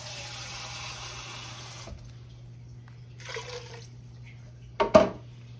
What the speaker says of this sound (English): So we're going to get this little bit more water in here, y'all.